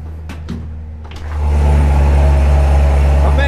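A few clicks of a remote start, then a 2017 Corvette Z06 engine starts and settles into a steady, close idle rumble.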